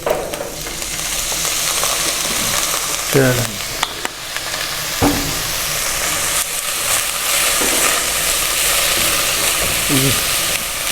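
Chicken sizzles and fries steadily in a pan as soy sauce goes in, a continuous loud crackling hiss with occasional clinks and scraping of a utensil stirring the pieces.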